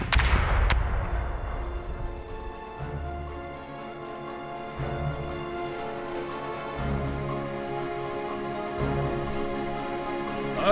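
Ship cannon fire in the pirate sea battle game Corsairs Legacy: a sharp opening salvo of two close booms, then a rumbling tail beneath a sustained orchestral score.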